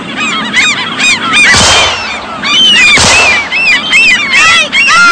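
A flock of geese honk loudly and continuously, many overlapping nasal calls close by, with a couple of sharp bangs like gunshots cutting through the din.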